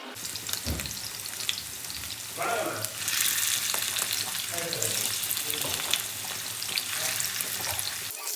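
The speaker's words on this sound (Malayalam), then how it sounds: "അച്ചാറിടാനായിട്ട് ആദ്യം വറുക്കണമല്ലോ മീൻ" Spice-coated fish pieces fry in a pan for pickle, with a close, crackling sizzle that swells and spits unevenly as the pieces are moved, and no talk.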